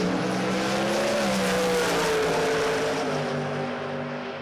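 A drag racing car, a Hilux carrying 403 cubic inches, spins its tyres at launch, a loud sustained engine roar with squealing rubber that drifts downward in pitch and eases off toward the end.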